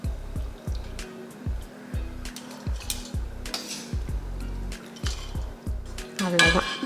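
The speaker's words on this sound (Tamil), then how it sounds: "எடுத்துட்டு நல்லா எண்ணெயை வடிச்சிட்டு எடுப்போம்." Fried rice flour murukku is lifted out of hot oil with a metal utensil, making a steady series of sharp clinks and taps against the pan over a soft sizzle as the oil drains off.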